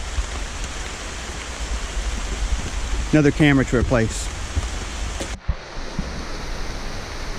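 Rushing water from a rainforest creek in Costa Rica after storm damage, a steady broadband roar filling the whole clip with someone speaking briefly over it midway.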